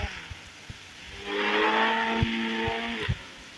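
A car in the video game Indian Bike Driving speeds up, its engine tone climbing and swelling over a few seconds, with a few short thuds in the background.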